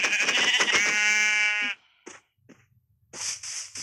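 A sheep in the video game Minecraft gives one long, wavering bleat up close, followed by a few faint, scattered game sounds after a short pause.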